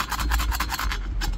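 Sandpaper rasps back and forth over epoxy on a Stealth BBF intake plenum, a series of close, rhythmic gritty strokes.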